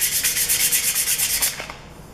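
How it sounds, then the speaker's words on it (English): Soft jaws for a drill gauge being sanded by hand with sandpaper: about a dozen quick, rhythmic rasping strokes, close and loud, before stopping abruptly into quiet. "A piece of sandpaper right here."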